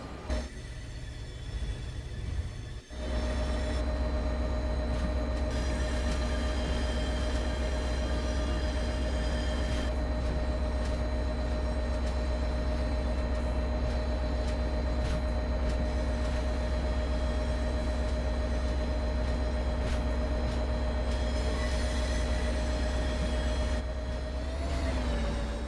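Train running in the game Train Sim World 4 near Boston Back Bay: a steady, loud rumble with a sustained tonal hum and a brief change in the opening seconds, continuing evenly with no voices.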